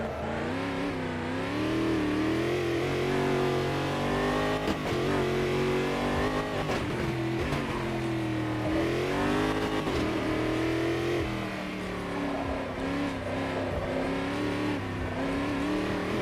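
A Lamborghini race car in a racing video game revs continuously, its engine note rising and falling through gear changes at steady loudness, with no talk over it.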